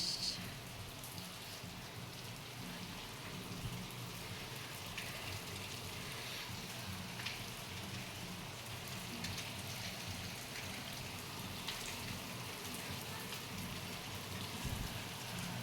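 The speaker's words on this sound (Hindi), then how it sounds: "बारिश" Steady, dense rain falls on surfaces outdoors under a heavily clouded sky, a continuous close hiss with scattered drops and no voices.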